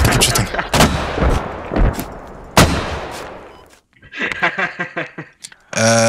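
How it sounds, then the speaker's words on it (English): Mortar barrage in the video game Squad fires explosive shells, heard as loud booming blasts in quick succession with rumbling decay, then a pause, more distant thuds and a final heavy blast. "Make sure everybody's shooting explosive shells."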